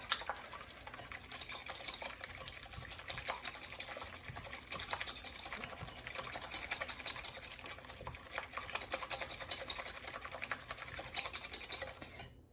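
Egg whites whisked by hand until frothy: a fast, continuous rattling patter of the whisk against the bowl, steady and moderately quiet, with no talking.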